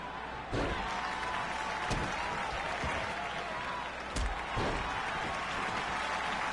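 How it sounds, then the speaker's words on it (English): Wrestling crowd clapping steadily throughout a women's match, a broad wash of applause with a few sharp slams or thuds cutting through, fairly distant and continuous. "Fans are clapping."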